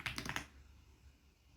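A quick burst of four or five crisp keystrokes on a computer keyboard while a search is typed, close and fairly faint, then near silence.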